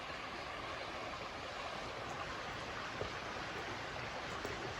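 Beaver Creek in Arizona flows past a spot where a well's runoff empties into it, a continuous broadband rush of moving water heard from nearby, steady and unbroken with no voices.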